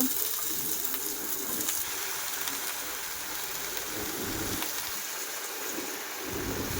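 Vegetables go into a hot pan for a mixed-vegetable dish and fry with a dense, steady hiss and crackle that lasts throughout, close and fairly loud, with no one speaking.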